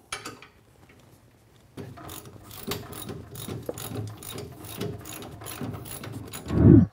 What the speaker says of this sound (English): They're 9/16, so grab a combination wrench, as well as a socket, and pop them out.